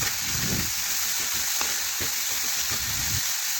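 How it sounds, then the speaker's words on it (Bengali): Onion and cabbage frying with salt in a pan, a steady close hiss with occasional soft clicks and scrapes of stirring, no one talking. "লবণ দিয়ে ভালোভাবে পেঁয়াজ আর বাঁধাকপি একসাথে মিশিয়ে একটু ভেজে নিচ্ছি।"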